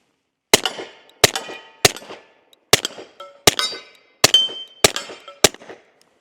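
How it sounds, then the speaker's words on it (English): Eight suppressed shots from a Colt M45A1 Nighthawk pistol ring out one after another, each a sharp, loud crack followed by a quick metallic ringing decay. The shots come at a steady, fairly quick pace with brief gaps between them. "let's go ahead and take our first few shots with the Colt M45A1 Nighthawk suppressed"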